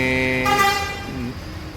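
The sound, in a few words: horns of Scania K4 bus being checked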